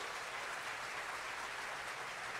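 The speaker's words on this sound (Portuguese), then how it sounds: "Se tem algum crente aqui, aplauda o Senhor em nome de Jesus" Church congregation at a revival celebration service applauds the Lord, a thick, even roar of many hands clapping at once, continuous and unbroken with no voices standing out.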